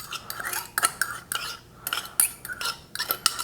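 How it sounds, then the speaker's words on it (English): Buttermilk being mixed in a bowl as part of a coconut rum cake batter, with repeated clinking and scraping of a utensil against the bowl close up, in an irregular rhythm and without speech. "We're gonna get our other bowl. We're gonna mix our buttermilk."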